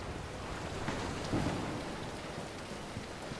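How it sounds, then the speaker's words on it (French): Steady rain pours from clouds in the horror game Void Echoes, a dense continuous hiss with a faint low rumble like distant thunder, constant and enveloping with no talk. "Il y a des nuages qui font pleuvoir."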